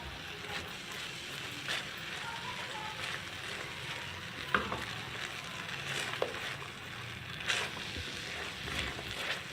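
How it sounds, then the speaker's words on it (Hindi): Cheese sauce made with cream and grated cheddar bubbles and sizzles softly in a pan, a low steady simmer with a few faint scrapes and taps scattered through. "थोड़ा सा इसको और पकाएंगे ताकि ये थोड़ा और गाढ़ा हो जाए।"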